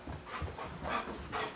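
A dog pants right after a bath in quick, soft, rhythmic breaths, close up but quiet.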